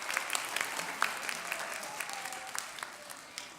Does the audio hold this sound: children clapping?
yes